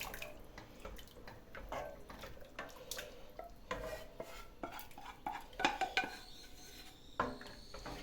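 Utensils scrape and clink against a pot in quick irregular strokes, with a few sharper metallic taps near the end; no voices.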